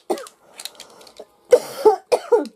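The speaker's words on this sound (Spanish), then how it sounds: "porque me ha cogido la tos" A person coughs several times in short, close bursts at irregular intervals, with faint rustling between them and no speech.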